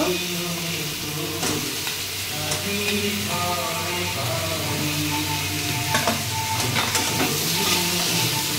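Potatoes sizzle and fry in a hot pan of oil with a loud, steady crackle and hiss that carries throughout, while occasional stirring scrapes cut through near and close.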